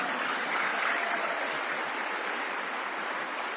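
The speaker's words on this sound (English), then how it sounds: "you can give him a round of applause for that" Steady applause from an audience at a talk on immigration, a dense even patter of clapping that holds throughout at moderate level with no voices over it.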